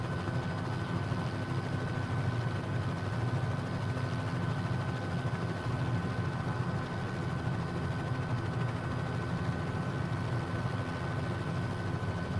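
A Bell 206 JetRanger helicopter in flight up the river in London toward London City Airport, heard as a steady, loud, unbroken engine and rotor drone with a constant hum, no voices.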